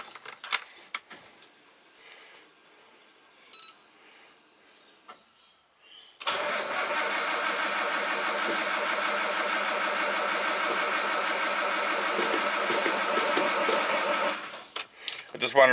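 An R32 Nissan Skyline cranks briefly, then catches and runs, settling into a loud, steady idle close by for about ten seconds after some quiet handling noises and key sounds at the start.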